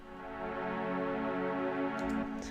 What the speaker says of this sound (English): I also chose synthetic strings because I prefer that, and it's an Ableton preset